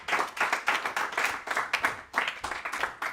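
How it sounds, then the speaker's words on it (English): Audience clapping after a Java web development talk, a modest crowd applauding in quick uneven bursts, fairly near and unaccompanied by talk. "An applause for Sami."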